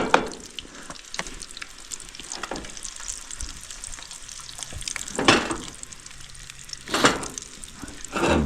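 Eggs fry sunny side up in a pan over a campfire on a riverbank, a steady soft sizzle broken by several louder crackling bursts and scraping sounds.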